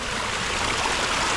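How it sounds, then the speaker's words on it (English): Water trickles and splashes steadily down a backyard pond stream over aqua blocks, a constant broadband rush close by and unbroken throughout, with no voices over it. "just listen at how peaceful and serene this water is"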